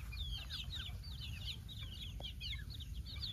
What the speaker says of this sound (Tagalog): mga damo na tinutuka yung ating mga native chicken